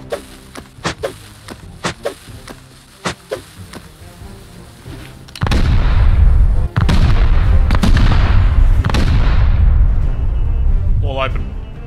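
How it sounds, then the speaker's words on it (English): Satchel charges go off during a base raid in the game Rust. A series of sharp separate blasts comes first, then a loud, sustained, rumbling roar of explosions that fills the rest of the scene. "we crafted up some satchel charges to raid that base"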